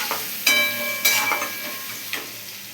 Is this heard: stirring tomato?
yes